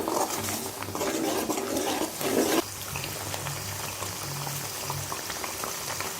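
Masala gravy for a chapathi side dish boils in a pan, with close, busy bubbling and sputtering that settles into a quieter steady simmer partway through, no voices.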